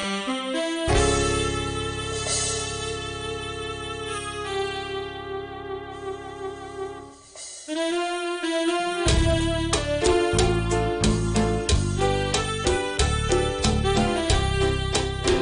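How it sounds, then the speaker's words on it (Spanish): A band plays an instrumental danzón, with sustained melodic lines, then shifts into brisk rhythmic passages with percussive accents. "Vamos a tocar un danzón, un tema que no hemos tocado en la"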